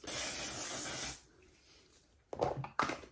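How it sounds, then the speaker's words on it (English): Makeup setting spray hisses from a bottle in one sustained, close burst of about a second, followed by quiet and then a couple of short rustling handling sounds. "it's literally like spraying a super intense hairspray into your face"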